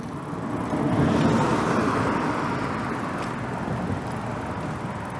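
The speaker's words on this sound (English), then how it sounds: "although you're never far from the car noise here" Car traffic passes along a city road, a steady broadband roar of tires and engines that swells slightly as a vehicle goes by, heard from nearby without talking.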